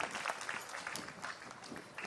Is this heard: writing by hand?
no